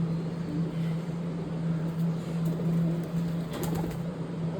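A pigeon feeds at a window, with soft bird sounds over a steady low hum and faint background noise.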